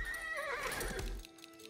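A horse in the Age of Empires IV video game gives a short, clear neigh with a hoof clip-clop underneath, one brief call that fades quickly.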